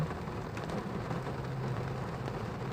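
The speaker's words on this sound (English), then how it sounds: "It's raining, raining, loads and loads of rain." Heavy rain pours down in a continuous, dense hiss and patter that stays even and loud throughout, with nothing else standing out.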